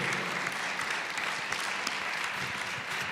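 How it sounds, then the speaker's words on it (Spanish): An audience claps loudly and steadily throughout, a dense wash of applause with no speech. "fuerte el aplauso entonces para ustedes también, para la gente de sonido"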